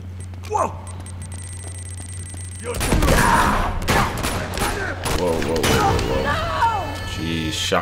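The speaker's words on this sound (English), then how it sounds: "Shotgun to the face." Shotgun fire in Uncharted 2 during close combat: loud, punchy blasts and crashing impacts burst in after a quiet stretch, mixed with game effects and someone talking throughout.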